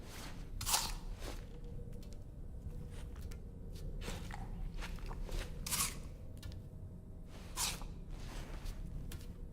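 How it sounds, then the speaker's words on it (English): A crunchy apple being eaten in the video game Death Stranding 2 gives sharp, loud crunching bites that recur at irregular intervals, with quieter chewing between them over a low background rumble. "That's some crunchy apple."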